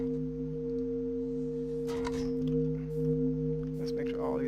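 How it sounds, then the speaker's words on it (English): Mekanism machines in the video game Minecraft run together as a steady electronic hum with several constant tones, while brief clicks and a quiet voice come in partway through. "These machines are pretty loud, so I'll warn you right there."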